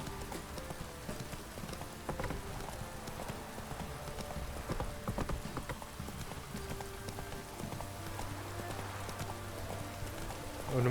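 The horse Roach gallops in The Witcher 3 with steady clip-clopping hooves. The rhythm runs close and continuous over rain and background game ambience, with no talking.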